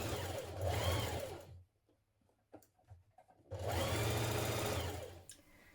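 A sewing machine runs the side and inside leg seams of a jumpsuit, whirring in two long, steady bursts separated by a pause filled with quiet fabric handling and small clicks.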